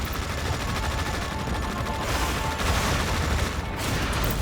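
Units open fire in the EndWar video game, with dense rapid gunfire and machine-gun bursts crackling continuously, loud and close, and a brief heavier surge midway, with no talk.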